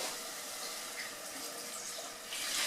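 Vegetable stock, about 800 ml, poured into a pot of Moroccan harira soup, a steady close liquid rush that swells slightly louder near the end.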